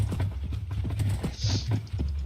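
Horse hooves clop steadily and close up while riding a horse in Minecraft Bedrock, a quick repeated rhythm of game footstep sounds with a brief higher rustle in the middle.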